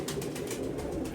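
A Hino-breed pigeon coos softly in a loft, a low, murmuring call repeating close by and quietly, with no talk over it.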